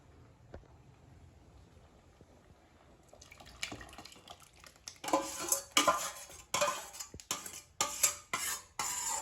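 Masala being poured into salt curry kulambu in a pot in a village kitchen, heard as clinking of metal utensils and wet stirring against the pot, rising to louder repeated scrapes and knocks in the second half, with no talking.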